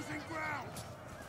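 Cavalry horses whinny in a Total War: Attila online battle between Franks and Huns, a few brief neighs rising from a dense roar of battle noise while a voice talks over the din.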